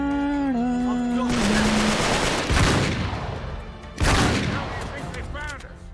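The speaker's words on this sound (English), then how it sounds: "This is a very powerful gun." Heavy gunfire from a powerful weapon in Uncharted 3: Drake's Deception, with loud sustained bursts of shots, two sharp impacts standing out, over game music and effects.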